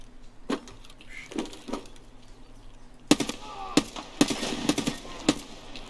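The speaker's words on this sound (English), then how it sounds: "You guys are already shooting?" Escape from Tarkov firefight in early morning: a few scattered distant shots give way to a sharp, close string of loud single and rapid gunshots, with no voices.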